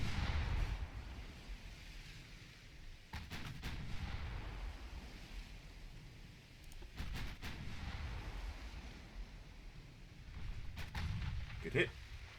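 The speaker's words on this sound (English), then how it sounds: "their 5-inch guns are opening up." Naval guns in the Ultimate Admiral Dreadnoughts video game fire from a heavy cruiser duel, likely the 5-inch secondary battery, giving sharp reports and booming blasts at irregular intervals over a steady low rumble of battle ambience.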